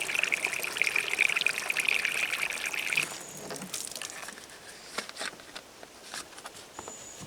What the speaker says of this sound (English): 55-gallon jug here, and basically just fill them up.